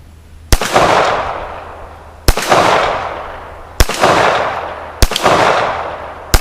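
Four loud, sharp reports from a Rock Island-made GI M1911A1 .45 ACP pistol firing FMJ rounds, evenly spaced about one to one and a half seconds apart, each followed by a long echoing decay outdoors.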